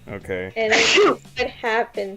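A person lets out one loud, sharp sneeze in the middle of a casual conversation, with voices talking just before and after it.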